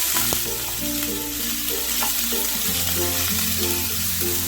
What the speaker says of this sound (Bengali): সবজিগুলো দিয়ে নাড়াচাড়া করতে করতেই আমি কাজু কিশমিশটা এর সাথেই দিয়ে